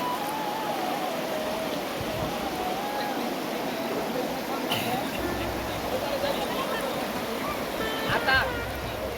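River water rushes steadily over stones at Sada Pathor, a dense, continuous wash that fills the whole clip, with faint voices murmuring in the background.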